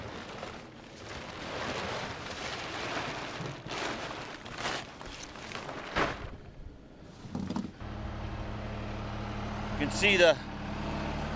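A farm tractor engine at a silage feeding and grain unloading job, first a broad rumbling noise under someone talking, then a steady low idling hum that carries on alone near the end.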